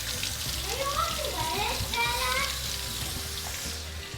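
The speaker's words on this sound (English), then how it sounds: "So grab your head of lettuce. Same thing, give it a good wash." Running tap water splashing over a head of lettuce being washed in a kitchen, a steady close hiss of water with light shifting tones as the leaves move under the stream.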